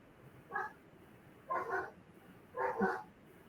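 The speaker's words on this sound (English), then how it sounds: "Sorry, our dog just started there." A dog barks at home in three short, fairly faint bursts spaced about a second apart, over a quiet room background.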